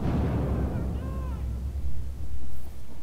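A grenade goes off in the video game Battlefield 4 with a heavy, rumbling boom that fills the whole moment, followed by rolling low-end battlefield noise and further dull blasts close by.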